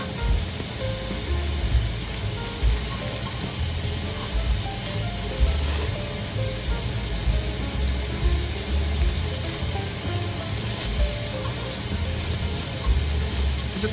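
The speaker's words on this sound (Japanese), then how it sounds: "ちょっとこう2枚交互にやりながら中まで火通していきます。" A rare cut of meat grills over heat with two pieces turned in turns. It sizzles loudly and steadily with a dense, crackling hiss that runs without a break and no voices on top.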